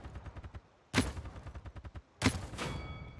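Gunfire in the shooter game Paladins, two loud sharp shots about a second apart, each trailing into a ringing tail, with quieter rapid rhythmic clicks between them and no speech.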